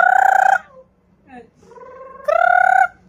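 Two loud, harmonic calls from a bird, one at the start and one near the end, with softer warbling tones between them; sounds like a chicken or rooster.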